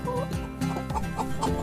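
Several short clucks from a farm chicken sound in a quick, uneven run, close and fairly loud with nothing else heard.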